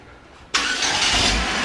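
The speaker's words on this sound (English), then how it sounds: "Oh, once the car starts," A car engine cranks and catches inside a home garage, then settles into a steady, loud running drone, with no talking.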